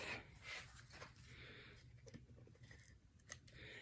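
Scissors snip through paper tape on a Halloween craft project, a few quiet, close cuts with soft rustling of the tape between snips.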